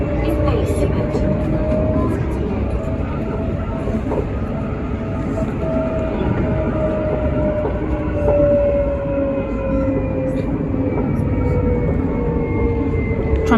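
A Nottingham tram passes a level crossing at Bulwell Forest with a loud, sustained rumble and rising and falling tonal whine from its motors, steady throughout.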